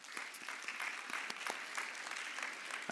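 Applause from a church congregation at a Sunday worship service fills the space, a steady wash of many hands clapping at moderate volume with no talk over it.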